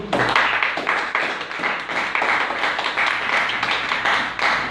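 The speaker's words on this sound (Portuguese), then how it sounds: "Dê uma salva de palmas para Jesus." A church congregation applauding together during a service, dense sustained clapping from many hands that rolls on steadily throughout, loud and close, with no speech over it.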